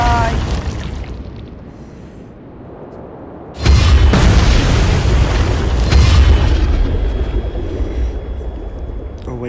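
A torpedo strikes a ship in the submarine game Uboat Attack, setting off a loud, booming explosion that jumps in abruptly after a quieter rumble and then rolls on as a heavy, sustained roar with a second surge.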